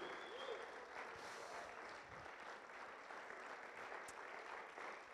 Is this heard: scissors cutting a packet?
no